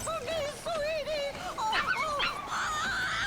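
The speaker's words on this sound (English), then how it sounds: "Wait for me, my low poly dog." A dog in the video game Dead Rising on Xbox 360 whimpers and yips in a rapid series of high, wavering cries, close and fairly loud with no talk over it.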